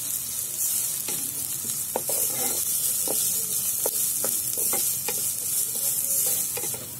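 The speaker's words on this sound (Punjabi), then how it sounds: "ਪਿਆਜ਼ ਤੇ ਗਾਜਰ ਆਪਾਂ ਦੋਨੇ ਇਕੱਠੇ ਹੀ ਭੁੰਨ ਲੈਣੇ ਆ।" Onion and carrot fry together in a pan for a vegetable Manchurian gravy, a steady close sizzle broken by repeated sharp scraping and stirring strokes, with no voices.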